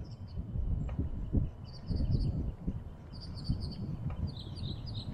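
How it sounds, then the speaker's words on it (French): Birds chirp and twitter outdoors in short high bursts scattered through the clip, fairly faint over a rough low rumble of wind or handling noise, with no speech. "Vous entendez les oiseaux?"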